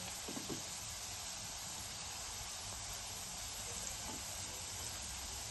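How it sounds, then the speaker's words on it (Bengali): Singara (samosa) fry slowly in oil over low heat, giving a continuous even hiss that stays steady and close throughout. "এবার এটা খুব ধৈর্য সহকারে কম আঁচে আছে ভাজতে হবে।"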